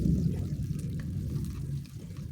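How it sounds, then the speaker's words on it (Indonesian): Three cloves of garlic fry in about three tablespoons of hot oil for an Indonesian tomato sambal, giving a soft, continuous crackling sizzle close by with no talking. "Goreng 3 siung bawang putih ke dalam kurang lebih 3 sendok makan minyak"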